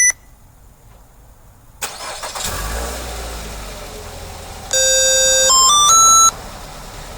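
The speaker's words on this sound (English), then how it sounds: "So now I'm going to go ahead, I'm going to trigger remote start." A Nissan car engine cranks and catches on remote start, then settles into a steady idle while a series of electronic chime tones sound over it.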